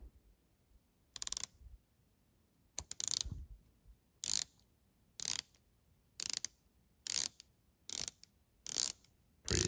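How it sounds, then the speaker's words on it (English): A ratcheting 120-click Damascus bezel on a Zelos Swordfish dive watch with a Timascus case is turned in nine separate short bursts of fast, crisp clicking, close and fairly loud, with quiet pauses between bursts. "let's check out the bezel action on this beauty"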